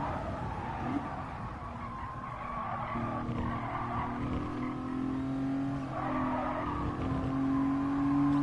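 Race cars in Gran Turismo Sport sliding through corners, tires squealing and skidding loudly over a steady engine drone, with the squeal rising and falling in long sweeps.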